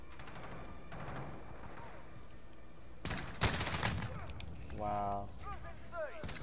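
Pistol fire in Call of Duty: Modern Warfare, with a loud burst of sharp shots in the middle over a busy game soundtrack, then someone speaking briefly afterward.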